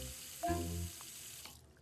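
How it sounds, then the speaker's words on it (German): Water gushing from a household tap into a sink, a brief strong burst that swells then settles into a softer running hiss before fading out, with no talking. "Du verschwendest ja Wasser."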